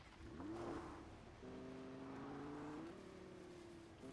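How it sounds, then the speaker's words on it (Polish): A car in Fortnite pulling away, its engine revving up in rising tones, then holding a steady drone as it drives off, close and moderately loud with no talk. "Dobra, wsiadam do samochodu i jedziemy dalej."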